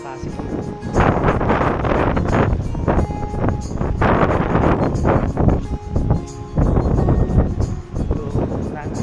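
Strong wind buffets the microphone at a beach lined with pine trees, loud rumbling gusts that surge and drop continuously, while a person talks over it at times.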